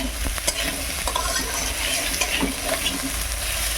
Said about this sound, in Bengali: দেখুন আস্তে আস্তে কি সুন্দর ভাজা হচ্ছে